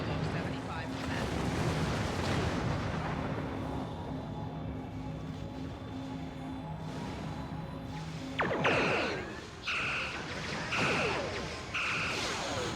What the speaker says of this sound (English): those torpedoes managed to get back around and track onto the target.